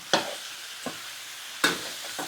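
Pork leg dry-roasting in a hot wok, with a few sharp scraping stirs of the spatula, two louder and two softer, over a faint steady hiss.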